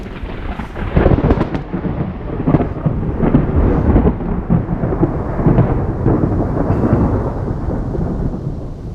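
A loud, close thunder clap erupts and rolls on in deep rumbling waves, with rain falling underneath, at Blue Lake in Vynohradar, Kyiv.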